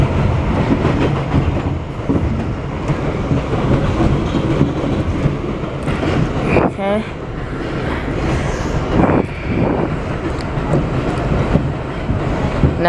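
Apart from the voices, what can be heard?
subway express train running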